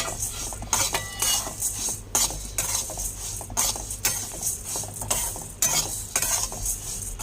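Puffed rice being stirred with fried potato in a pan, brisk rhythmic scraping and rustling strokes repeating every second or so over a low sizzle, close and steady with no talking.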